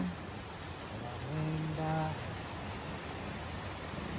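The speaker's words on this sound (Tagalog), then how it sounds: "Maulan guys, sobrang ulan." Heavy rain pours as a steady, dense hiss on Mount Balagbag, with a faint voice briefly audible underneath.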